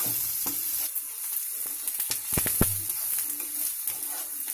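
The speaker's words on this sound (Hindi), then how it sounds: "इसके अंदर प्याज को डालिए, इसे भी अच्छे से भून लीजिए। इसे अच्छे से भूनते रहिए।" Onions frying in a pan for chicken Manchurian, a loud steady sizzle with spatula scrapes and a couple of sharp knocks against the pan midway.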